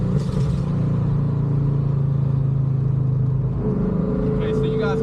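A Ford Mustang 5.0 with an MSD two-step rumbles and revs through a downshift, its steady low exhaust drone broken by a shift near the end, with voices talking over it.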